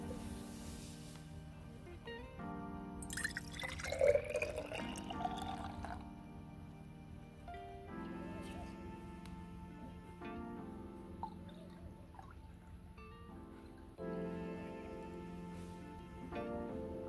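A diluted neem leaf and cinnamon solution pours into a spray bottle in several separate runs, a rising gurgling fill with small splashes, close by and quiet, with no one talking.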